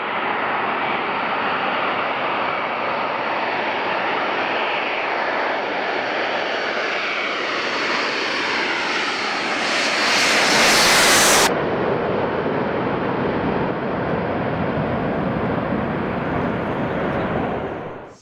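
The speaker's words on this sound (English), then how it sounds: "The arrival of a giant C-17 from Stewart Air National Guard Base in New York State" A giant C-17 military transport aircraft from Stewart Air National Guard Base, New York, arriving with a loud, sustained jet engine roar that swells and peaks midway, then keeps rumbling steadily.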